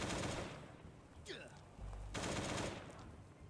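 AK rifle fire in the survival game Last Day on Earth: faint, rapid bursts of automatic shots in two dense clusters separated by a short lull.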